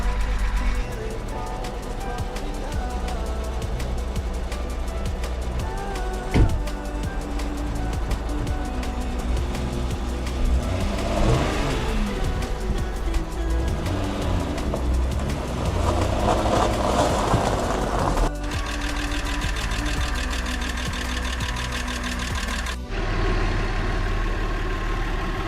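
An Audi 80 2.6 V6 that has sat unstarted for about a year runs steadily at idle with a slightly tappy valvetrain, a continuous low engine drone with a few brief shifts in tone and no talk over it.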